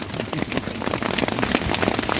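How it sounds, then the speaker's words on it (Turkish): Hail pounds down on a tent in a dense, continuous patter of sharp hits during a storm, close and steady with no voices. "Arkadaşlar felaket dolu yağıyor."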